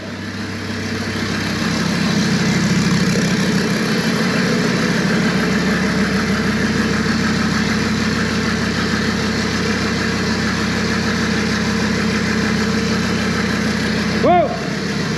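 A 1984 Mercedes diesel engine idling steadily after a cold start, a loud, close, continuous rough rumble throughout, with a brief knock near the end.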